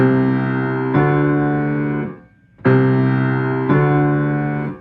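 Sustained piano chords ring into one another with the damper pedal held, two connected pairs separated by a brief near-silent gap.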